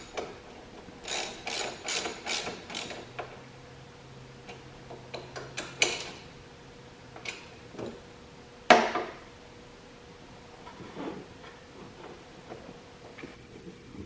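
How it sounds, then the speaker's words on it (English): Socket wrench with a 12mm socket ratcheting as it tightens a fitting during an LS XR3135 tractor rebuild; rapid close clicking bursts come in repeated runs with short pauses, plus a few louder clanks, no talking. "use your 12mm socket drive and just tighten that up"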